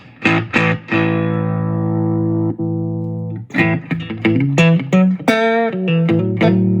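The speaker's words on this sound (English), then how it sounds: "like that deluxe reverb kind of sound on there" Electric guitar through a Fender Champion 20 amp on a blackface setting, sustained chords ringing out with a Deluxe Reverb-style reverb tail, then a quick run of picked notes; no talking.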